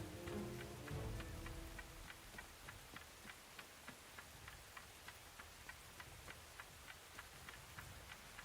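Steady rain falling in the video game Tales of the Shire, a continuous soft hiss with regular light ticking drops, plus a low rumble at the start.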